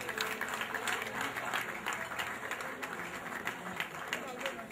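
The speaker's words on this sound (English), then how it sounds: "Can we clap for Jesus?" Guests clapping at a wedding reception, steady applause from a crowd heard under a voice talking.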